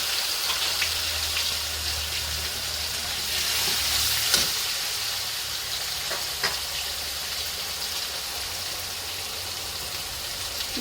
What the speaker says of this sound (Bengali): এখন আমি দিয়ে দেবো পেস্ট করে রাখা মশলাগুলো